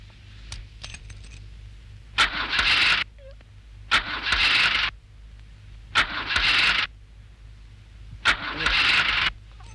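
A car engine is cranked four times in a row, each attempt a loud, grinding starter whir lasting about a second that dies away without the engine catching, with a faint hum and small clicks between tries.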